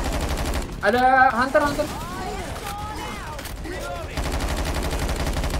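Rapid automatic gunfire from the zombie shooter Left 4 Dead 2, loud bursts near the start and end of the clip, with players talking over the middle.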